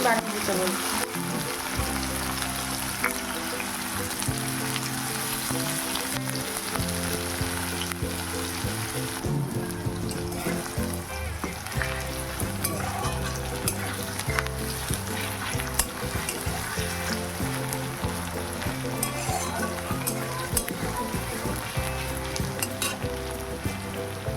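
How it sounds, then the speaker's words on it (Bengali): Chopped onions fry in oil after a tempering of dried red chillies, with a loud, continuous sizzle, while stirring scrapes rhythmically against the pan underneath. "তারপর দিয়ে দিচ্ছি পেঁয়াজ কুচি।"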